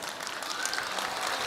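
Audience at a 44th anniversary gathering clapping, a fairly faint, steady patter of many hands heard at a distance, continuous with no voices standing out.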